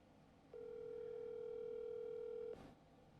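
A telephone call rings out as one steady, moderately loud electronic tone lasting about two seconds, followed by a short burst of noise and then quiet.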